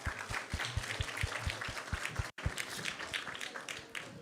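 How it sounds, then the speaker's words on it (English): Audience applause at a Krishna Katha spiritual gathering, a steady patter of hand claps with a brief gap midway, fairly close and moderately loud. "So let's give them a big round of applause"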